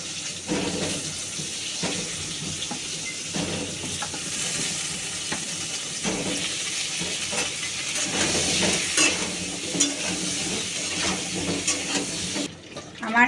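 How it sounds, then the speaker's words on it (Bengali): Pointed gourd and potato pieces frying in oil with turmeric in a home kitchen, giving a steady broadband sizzle with occasional stirring clatter throughout, fairly close and continuous. "তেলের মধ্যে একটু হলুদ দেবো তারপরে পটলটা দেবো"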